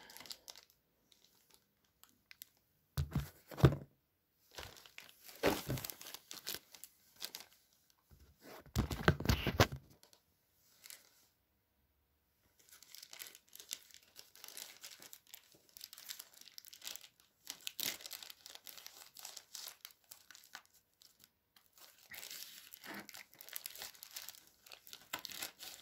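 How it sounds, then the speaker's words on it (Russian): Parcel being opened nearby, with bursts of crinkling and rustling plastic packaging and a few sharper tearing sounds, broken by quiet gaps, faint and close. "Как надо открывать посылки."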